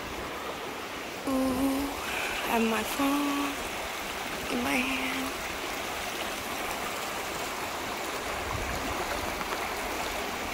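A woodland creek flows steadily, a constant watery rush under the whole stretch, while people talk briefly nearby early on.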